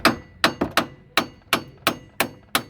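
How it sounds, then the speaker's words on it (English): Hammer striking the tip of a front strut on a 2004-2008 Chrysler, about nine sharp metallic blows in a fairly steady rhythm, loud and close with quick ringing decay, no talking. "so you can use a hammer and strike this"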